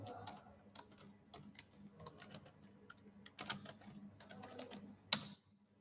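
Quick, irregular clicking of a computer keyboard as someone types a calculator program, close and fairly quiet, with brief pauses between runs of keystrokes and one sharper tap near the end.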